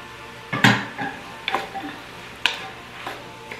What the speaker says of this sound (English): I'm gonna add that celery and get that cooked down